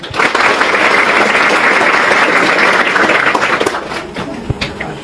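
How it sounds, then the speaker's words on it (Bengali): A large group of young cadets and athletes clapping for themselves, a loud dense wash of applause that holds steady and then thins out near the end, with a few separate claps standing out. "এবার তোমাদের নিজের জন্য একবার তালি মারো"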